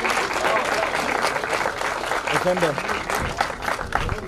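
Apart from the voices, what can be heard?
audience applause for young competitors at archery championship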